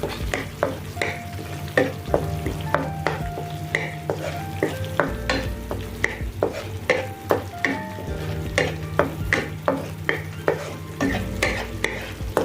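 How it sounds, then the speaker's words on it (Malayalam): Masala spices and garam masala frying in a pan for a paneer veggie stir fry, a soft continuous sizzle under frequent rhythmic scrapes and taps of a spoon stirring and mixing, close and without speech. "ഒന്ന് മിക്സ് ചെയ്ത് കൊടുത്ത് കുറച്ച് നേരം അങ്ങനെ ഫ്രൈ ആയിക്കോട്ടെ"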